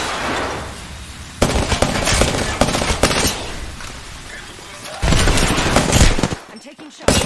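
Golden Volt gun shots in a video game: dense, loud volleys of rapid fire in several bursts with brief pauses, mixed with game noise and occasional voices.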